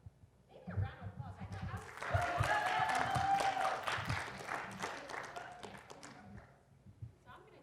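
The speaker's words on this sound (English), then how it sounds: "Maybe a round of applause" Audience at a school alumni panel applauding: a dense burst of clapping rises quickly, holds loud for several seconds, then thins out into scattered claps.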